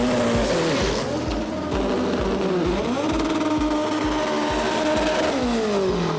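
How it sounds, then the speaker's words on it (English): Front-wheel-drive drag race cars do burnouts side by side at a competition clutch drag series, engines screaming loud and close with rising and falling revs over tire squeal. "Good burnouts from both just there."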